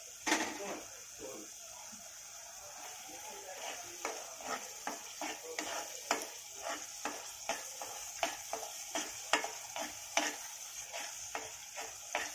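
Masala for Kolhapuri kat vada frying in a pan, with a soft sizzle under a steady run of rhythmic stirring scrapes and taps against the pan.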